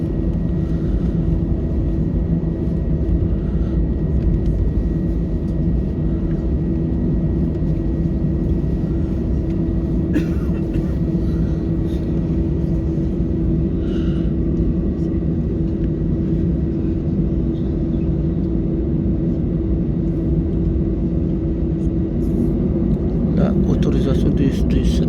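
An airliner at Marseille lines up on runway 30R for takeoff, heard from inside the cabin as a loud, constant low engine rumble and roar for about 25 seconds, with faint talk beneath it.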